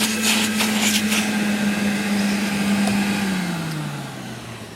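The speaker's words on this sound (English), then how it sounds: "And then you can start your vacuuming." A Hoover Aquatronic S3486 vacuum cleaner runs with a steady, loud motor hum that holds an even pitch, then slowly drops lower and fades slightly toward the end, with a few faint clicks near the start.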